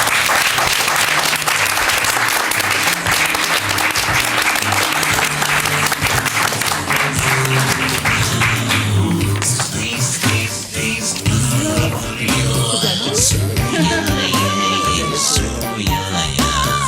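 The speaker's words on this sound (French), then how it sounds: "on peut l'applaudir fort." Loud, sustained audience applause at a gathering for a horseback tour of Switzerland, dense clapping that holds strong before breaking into scattered claps and a few voices toward the end.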